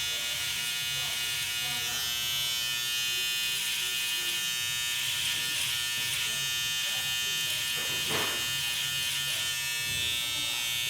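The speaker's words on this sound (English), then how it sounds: "Making sure that angle of my clipper is in that line." Electric hair clipper buzzing steadily and close throughout, held at an angle while cutting a fade along a receding hairline, with a constant whine.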